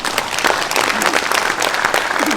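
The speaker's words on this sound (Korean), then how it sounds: "큰 박수 부탁드립니다." Audience applause at a book launch event, dense continuous clapping from a large crowd filling the room, loud and close, with a few voices mixed in.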